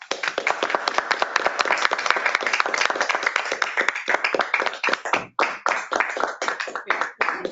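Audience applause welcoming Judy Young to a club meeting panel on organizing contests, a dense, steady burst of hand clapping that thins into scattered claps toward the end.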